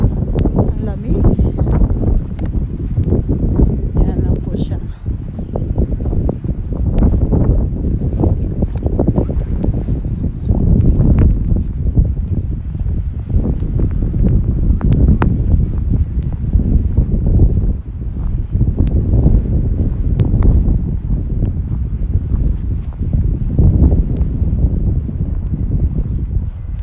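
Strong wind buffets the microphone on a cold hilltop, a heavy low roar that surges and rumbles continuously, with a person speaking over it at times.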